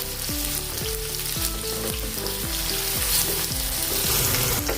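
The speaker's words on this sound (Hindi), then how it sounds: "थोड़ा इसको नरम करेंगे प्याज को।" Onions softening in hot oil in a pan with a pinch of asafoetida, giving a dense, continuous sizzle, plus a run of regular spoon scrapes and clinks against the metal throughout.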